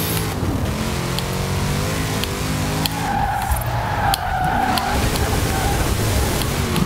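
A BMW E60 drifting through turns in Forza Horizon 4, with a steady, loud engine drone and sustained tire squeal through the corners, close and continuous.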